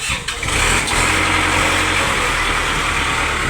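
A Kubota combine harvester engine in Laos cranks and catches, then settles into a loud, steady diesel running drone close by.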